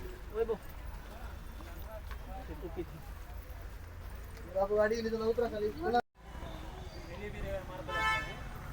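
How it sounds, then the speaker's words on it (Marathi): Heavy traffic outside the Ganpatipule temple on a crowded Sankashti Chaturthi festival day: car horns honk in short bursts over the rumble of the road, and voices carry through the scene. "ट्रॅफिक पण भरपूर आहे कारण का संकष्टी चतुर्थी असल्यामुळे ट्रॅफिक पण भरपूर दिसतं आपल्याकडे"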